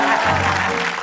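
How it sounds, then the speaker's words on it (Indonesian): A studio audience breaks into dense, loud applause on a television game show after a guitar performance, a short continuous burst heard up close. "Jago banget, tepuk tangan."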